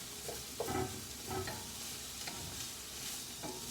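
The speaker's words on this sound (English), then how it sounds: "we're gonna let this caramelize and get a little" Sauce caramelizing in a pan: a soft, continuous sizzle with occasional scraping stirs and small clinks, fairly quiet and close, with no voices.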